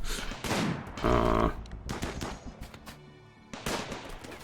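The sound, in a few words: automatic turrets firing in video game RimWorld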